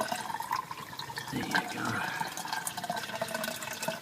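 Water from a fish tank drains steadily toward a drain, a continuous trickling and gurgling flow heard close by, with a brief spoken remark over it.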